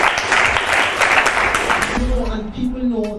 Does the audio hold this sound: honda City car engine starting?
no